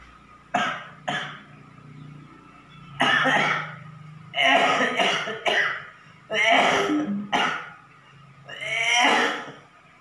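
A series of loud, close coughs and harsh throat clearings comes in about eight separate bursts with short pauses, as part of a cough-relief routine.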